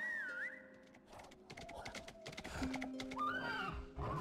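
Horse neighing in the video game Bleak Sword DX: two short, high whinnies with rising and falling pitch, one at the start and one near the end, over game music and effects.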